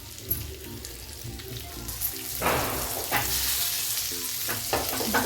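Fish sizzles and spits in a hot pan nearby, with a steady frying hiss, several louder crackling bursts and a few light clinks of a utensil.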